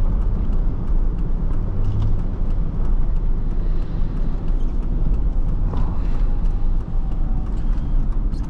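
A 2005 Chevrolet Suburban 1500 engine pulls steadily under acceleration, a loud, continuous low drone and rumble with road noise that builds smoothly without a break.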